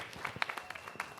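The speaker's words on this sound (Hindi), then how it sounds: "एक बार जोरदार तालियां हो जाए" Scattered, fairly quiet clapping rises from a crowd at a Hindi film trailer launch event, with individual claps audible in an uneven patter.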